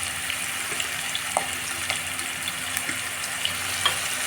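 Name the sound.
frying ginger garlic paste for cabbage masala curry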